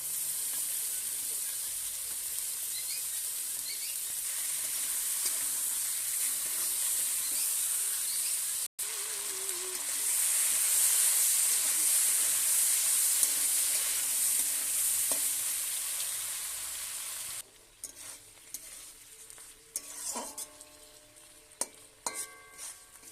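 Raw tomato and potato frying in fish oil for a spicy Bengali chorchori, a loud steady sizzle and hiss with occasional stirring scrapes that thin out into quieter crackles near the end.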